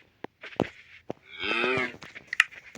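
A video-game cow lets out a loud, drawn-out moo in the middle, framed by short clicks and taps before and after it.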